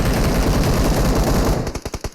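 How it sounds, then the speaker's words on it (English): Automatic gunfire rattles through a PUBG Mobile battle royale match, first as a dense, loud, continuous roar and then breaking into sharp, rapid individual shots near the end. "both of them taken down by gunshots thanks to Lotus from Naughty Esports."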